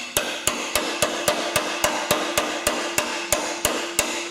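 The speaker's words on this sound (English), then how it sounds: "take a socket that fits over that and then just tap it" A hammer taps steadily on a metal socket to seat it onto a mower deck spindle shaft, about fifteen evenly spaced sharp strikes, each with a short metallic ring, close by with no talking.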